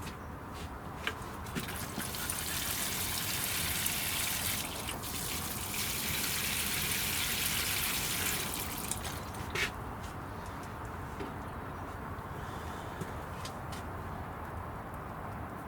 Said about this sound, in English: watering can.